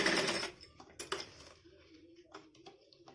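A sewing machine stitches elastic onto a dhoti salwar, a short whirring run near the start followed by a few lighter clicks and brief stitching bursts, close and moderately quiet.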